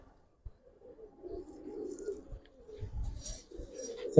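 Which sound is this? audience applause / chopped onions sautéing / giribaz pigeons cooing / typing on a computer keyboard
giribaz pigeons cooing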